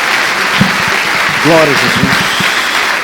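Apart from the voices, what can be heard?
applause in church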